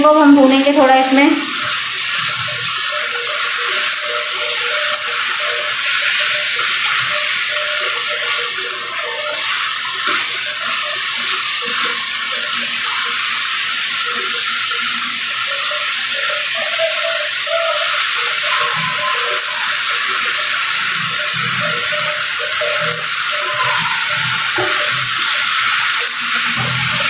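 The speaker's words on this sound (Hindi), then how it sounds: "कीमा अच्छे से भुन रहा है।" Minced meat (keema) with garlic and ginger sizzles loudly and continuously in a pan, a dense, close frying hiss that shifts slightly as it is stirred, with a brief voice at the start.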